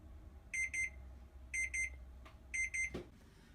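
A kitchen timer beeps in three evenly spaced bursts of quick high electronic chirps, fairly close and clear over a quiet room hum, followed by a brief clunk.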